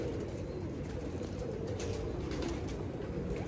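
Pigeons coo softly in a low murmuring drone, with steady background noise throughout and no talking.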